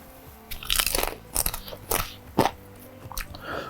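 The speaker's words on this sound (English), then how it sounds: "While I'm crushing the rest of this bowl of Cowboy Caviar" Someone eats cowboy caviar, a bean and vegetable salad dressed with chili garlic paste, chewing close to the mic. Several loud, crisp crunches and bites come in quick succession, with no talking.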